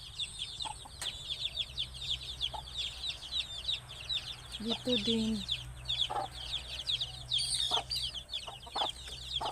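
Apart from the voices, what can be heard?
chickens clucking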